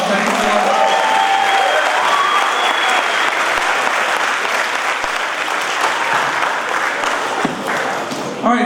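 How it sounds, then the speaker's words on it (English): Sustained applause fills a school assembly hall right after the national anthem, dense and steady clapping from a large crowd of students and staff, with a few brief voices faintly audible underneath. "Let's give him another round of applause."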